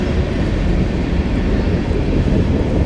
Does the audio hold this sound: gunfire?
no